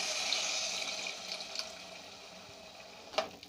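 Four cups of water pour into a pressure-cooker pot of rice with fenugreek leaves, spices and rock salt, making a close gushing splash that is loudest at first, fades, then ends with a small knock.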